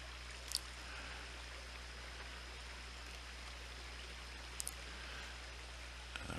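A small trout stream at Fountain Springs in northeast Iowa flows steadily, a soft, even wash of water heard faintly from nearby with a few brief clicks.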